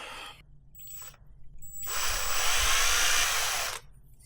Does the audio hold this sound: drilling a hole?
yes